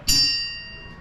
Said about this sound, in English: He spoke before the hour bell sounded, which it now did with a deep, Dull, hollow,